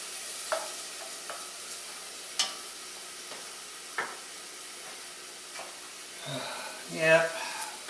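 About four cloves' worth of garlic sizzles gently in a pan, broken by occasional stirring knocks and scrapes and a louder burst of frying near the end.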